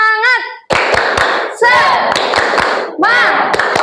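A classroom of students does a rhythmic spirit clap, sharp clustered hand claps in bursts, with group chanting voices between and over the clapping.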